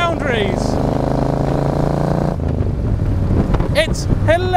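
Morgan Three Wheeler car engine roaring loudly and steadily with a deep harmonic drone that drops in pitch midway, close and continuous, with a voice speaking briefly near the end.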